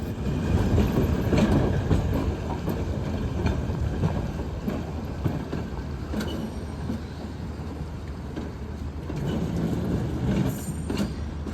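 An open-air tram from Rio de Janeiro rumbles steadily along its rails, close by, with low rolling noise and occasional faint clicks and squeaks from the wheels.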